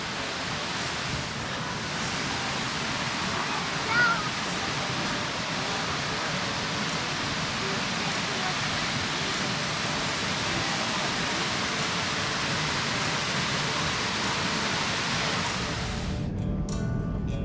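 A small rushing waterfall in rainforest on the Atherton Tablelands, a steady dense roar of falling water close by that holds constant throughout and ends abruptly, with no voices.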